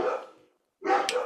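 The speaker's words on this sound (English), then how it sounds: "Oh, there's some dogs barking." Dogs bark in a couple of short bursts with a pause between them, fairly close and alone, with no talk over them.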